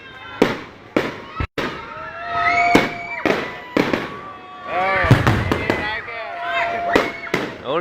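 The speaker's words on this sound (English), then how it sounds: "This fireworks display along Finelli Drive in Agate apparently illegal." Illegal fireworks display along Finelli Drive in Agat, Guam: a rapid series of loud cracking bursts and pops with whistling trails, some overlapping, with voices talking and cheering in between.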